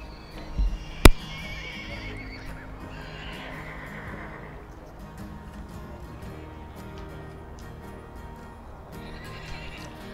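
Highland ponies at an agricultural show give a loud whinnying neigh, with a sharp knock near the start. Soft hoof clops and a low, steady background of crowd ambience follow throughout.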